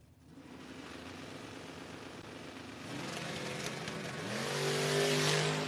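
Drag racing cars, a Dart and a Fox Body Mustang, at a no-box 660 shootout, engines idling then rising to a louder rumbling rev, moderately distant, with no speech.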